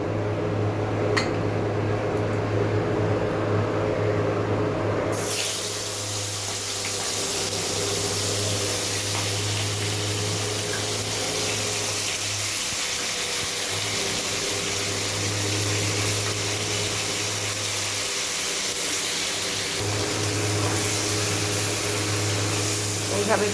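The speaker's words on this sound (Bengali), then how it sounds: "এই আলু ভাজা তেলের মধ্যেই আমি এখন চিকেনগুলোকে ছেড়ে দেব।" Chicken pieces frying in oil left over from frying potatoes for a potato chicken curry, a dense continuous sizzle and crackle heard up close throughout.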